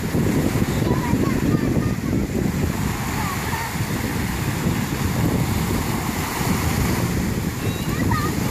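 Surf washes continuously onto a beach, a dense and fairly loud roar of breaking and receding waves mixed with gusty wind buffeting the microphone.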